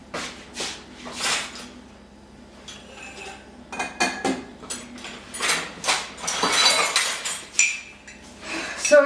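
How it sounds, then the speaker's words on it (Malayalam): A cup clinks and knocks against dishes and cutlery in a kitchen while cold coffee is made, with a series of close, bright clinks and clatters in irregular bursts and quieter gaps between them. "മാറ്റിയിട്ട് ഞാൻ ഒരു കപ്പ് എടുക്കട്ടെ."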